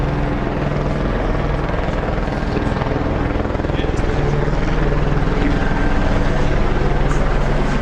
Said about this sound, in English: Helicopters checking everything out.